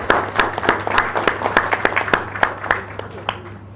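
Sparse clapping from attendees at a company annual general meeting after a motion is carried, a dozen or so distinct claps in an uneven rhythm that thin out and fade.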